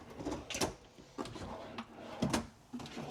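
Cabinet doors in a fifth-wheel RV kitchen open and close in a quick series of soft clicks and wooden thumps, about four distinct knocks close by with no talking.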